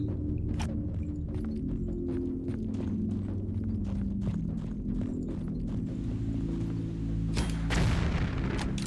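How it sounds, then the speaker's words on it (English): A grenade gun fires and its rounds explode in a Tomb Raider custom level set among caves. Deep booms rumble under a steady low drone, with repeated thumps and a louder burst near the end. "may as well use the grenade gun"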